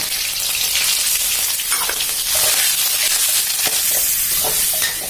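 Minced shrimp and pork stir-frying in hot oil in a wok for a Thai noodle dish, a loud, continuous close sizzle with occasional spatula scrapes and stirring clinks, no voices.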